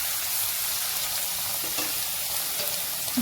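Ridge gourd pieces frying in a pan with green chillies and curry leaves, a continuous dense sizzle with a few light stirring knocks, no talking.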